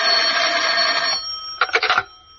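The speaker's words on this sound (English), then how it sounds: "the phone was ringing." An old-style telephone bell rings in a radio drama, a sustained metallic jangle followed by a short pause and a few rapid broken bursts before cutting off.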